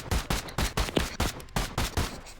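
Rapid, loud gunfire rings out in a Roblox police roleplay shootout, with about ten evenly spaced shots in a fast rhythm and nothing else audible.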